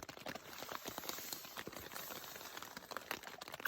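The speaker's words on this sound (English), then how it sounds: "So here I am in my tent, and there's hail and a little bit of rain" Hail and light rain patter steadily on a tent during a Sierra spring snowstorm, a dense crackling of small close impacts with no voices.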